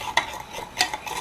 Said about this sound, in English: So I'm gonna mix it up until it's completely